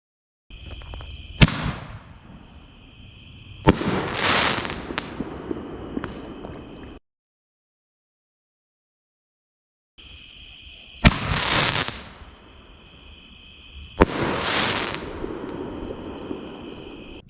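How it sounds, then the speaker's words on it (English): Rowdy rings firework shells from a consumer stash launching and bursting outdoors, sharp thumps followed by loud crackling booms, in two bursts separated by a silent gap, with insects chirping faintly between. "let's just go ahead and roll the 2 shells of the rowdy rings that I shot off"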